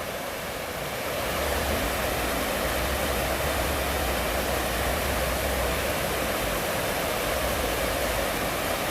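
A waterfall and river tumbling past a log crossing on a wooded trail, a dense continuous roar with a low rumble underneath, steady and fairly close throughout.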